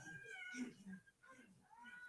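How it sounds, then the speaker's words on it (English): Cats meowing in a barn scene of the film Halloween 5, several high drawn-out mews mixed with people talking over them, fairly quiet. "cute little kitties"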